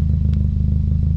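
A steady, low rumbling engine chugs along at idle, its even throbbing pulse continuous and close, with faint mechanical clatter on top.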